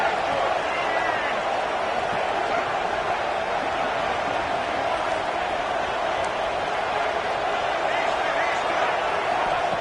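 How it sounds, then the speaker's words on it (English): A packed stadium crowd at a Kentucky college football game gives off a loud, steady roar of cheering and noise that holds without a break for the whole stretch. "Listen to the crowd energy here in the early going."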